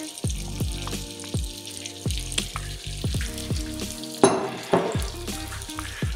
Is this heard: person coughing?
no